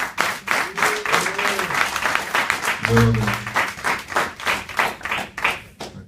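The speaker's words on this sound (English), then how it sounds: "Let's give them all a big hand clap" Clapping from an audience at a spiritual gathering with a drum circle, a dense run of hand claps over about six seconds, with a voice speaking over part of it.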